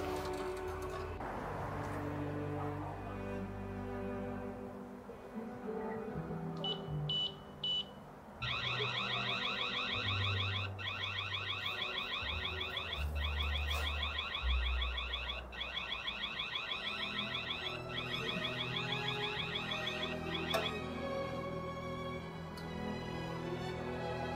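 A shrill electronic siren alarm from a Reolink Go G430 4G outdoor security camera blares steadily for a long stretch, pulsing in a fast repeating pattern over constant low background noise.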